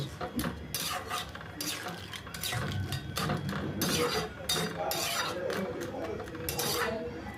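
Crab curry gets stirred with garam masala in a pan, with repeated close scraping and clinking of a metal spoon against the pan in an irregular rhythm, while a person talks over it.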